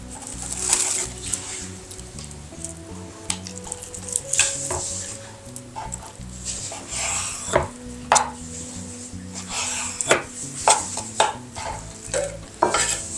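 Repeated knife strokes slice lengthwise through chicken breast on a board, short irregular thuds and slices close by, with faint kitchen clatter in the background.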